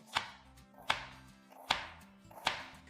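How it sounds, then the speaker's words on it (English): A knife slices through half an onion on a cutting board, four distinct, evenly spaced chops, close and fairly quiet with no talking. "So let's start by cutting and slicing half an onion."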